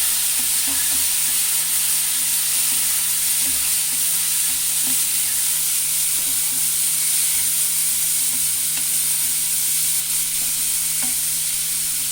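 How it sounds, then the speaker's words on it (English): Black chickpeas for masala chana being stirred and fried in a pan, a steady loud sizzle running throughout with soft scraping stirs mixed in and no one talking. "And now I'll add my chickpeas here. I mix these."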